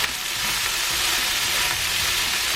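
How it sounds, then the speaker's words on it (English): Leftover cooked rice sizzles and crackles steadily in hot oil while being stirred for fried rice, a close, continuous frying hiss with no voices. "This is the fried part of fried rice."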